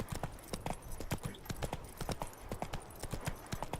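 In The Witcher 3, the horse Roach's hooves clip-clop in a quick, steady rhythm, moderately close and fairly quiet.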